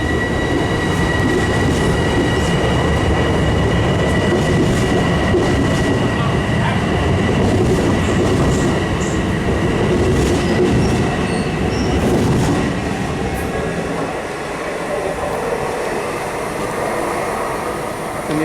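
A passing New York City train roars loudly and continuously, with rattling wheels and a faint high squeal, easing slightly toward the end.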